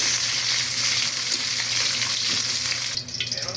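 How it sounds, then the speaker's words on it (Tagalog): Loud, continuous sizzling of carrots and green beans frying in hot oil, close up, easing off near the end. "i-prito natin itong carrots at saka bagu beans."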